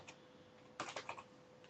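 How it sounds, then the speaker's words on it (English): Typing on a computer keyboard, a faint close cluster of quick key clicks with one soft tap before, quiet and without speech. "I'll just type in introduction to American Agent Network"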